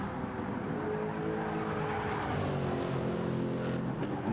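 GT race cars roar out of the Porsche Curves at Le Mans in a racing game, a loud sustained engine drone with rising and shifting pitch as cars accelerate, no speech.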